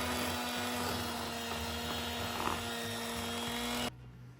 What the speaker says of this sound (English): make sure that you are whisking with the old antique machine that you probably will never use again